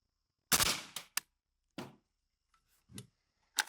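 Suppressed rifle shots from 5.45x39 ammunition fired through a Ventum suppressor at night, several sharp reports spaced irregularly, the first loudest, with quieter cracks and echoes between.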